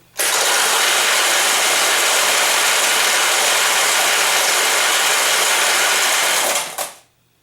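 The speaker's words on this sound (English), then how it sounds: "any balls from here on up will roll down this chute and into your bucket" Steel pachinko balls from a Nishijin pachinko machine pour down the drain chute into a bucket in a loud, dense, continuous rattle lasting several seconds before stopping abruptly.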